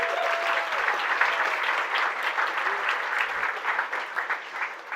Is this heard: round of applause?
yes